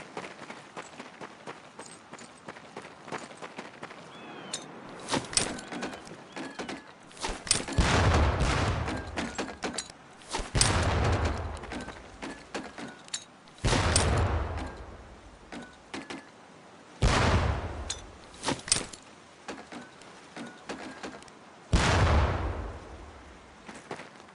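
Training grenades from Medal of Honor: Pacific Assault burst one after another near target barrels, five heavy explosions with rumbling tails at irregular intervals over a low background din.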